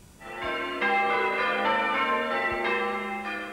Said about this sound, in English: These are the bells of St. Swithin's at Compton Basset.